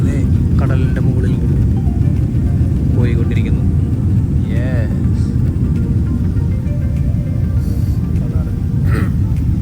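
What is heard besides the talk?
airplane cabin noise in flight over the sea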